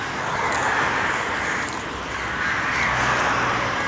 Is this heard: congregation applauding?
no